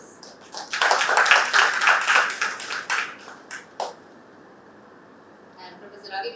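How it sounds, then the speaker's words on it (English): An audience at a university debate event applauds in a burst of dense clapping that tails off after about four seconds into near silence, with a few faint taps at the end. "Please give him a warm round of applause"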